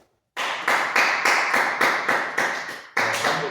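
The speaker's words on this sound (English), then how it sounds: "Okay, you can clap for her." A classroom group claps for a student during a microteaching lesson, a brisk burst of quick hand claps from several people, close and fairly loud. It stops briefly and then starts again.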